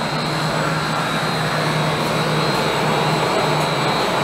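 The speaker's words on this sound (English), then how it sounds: "At the end, there's a little bit of ash left that gets automatically removed using this auger." An automatic ash auger runs on a biomass boiler in a district energy centre, giving a steady, continuous mechanical hum and whir with a constant tonal drone, close and unbroken.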